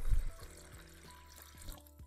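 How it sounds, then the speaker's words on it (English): Water is poured into the water tank of an EPIC TCM 801A espresso machine, a short soft splash and trickle close by, with low rumbling and faint tonal hum underneath. "Now let's fill some water into the water tank."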